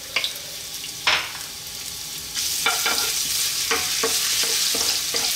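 Ginger frying in about three tablespoons of hot cooking oil for Filipino creamy clams, a continuous sizzle that thickens partway through, with intermittent scraping stirs and utensil clicks close by.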